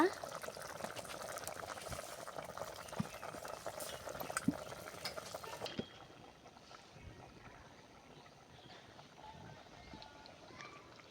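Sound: curry boiling in a pot

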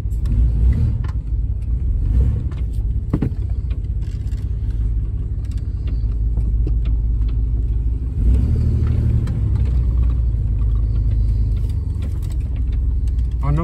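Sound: car engine warming up and driving off

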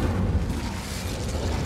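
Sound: Incendio fire spell setting something on fire in the video game Hogwarts Legacy

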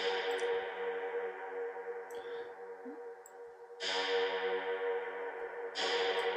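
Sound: reverb on percussion sample pad

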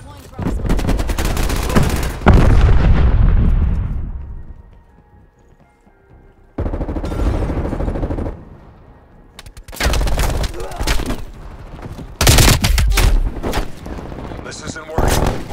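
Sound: sentry turret machine gun fire in Call of Duty Black Ops Cold War video game

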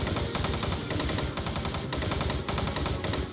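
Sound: gunfire in video game Doom 3 mod

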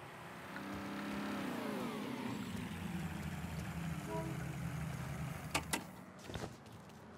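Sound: car engine starting and revving in video game Mafia III

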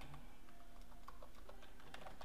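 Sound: computer keyboard typing

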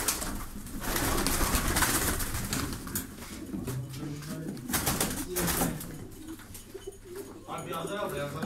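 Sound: pigeons cooing at a pigeon club

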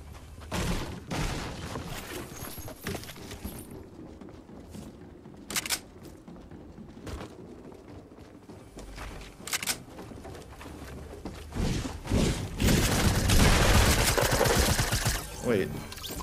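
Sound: heavy assault rifle gunfire in Fortnite video game

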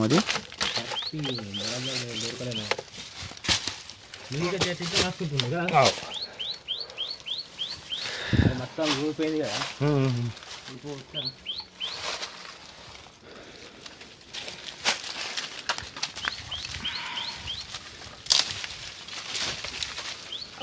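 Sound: small birds calling inside old fort tunnel

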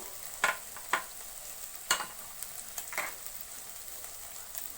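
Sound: prawn fry masala frying in a pan

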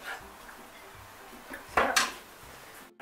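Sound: stirring chopped carrots into shepherd's pie vegetable mix

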